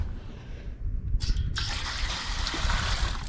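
Water poured to fill pets' drinking container, a steady trickling fill starting partway through and continuing close and moderately loud.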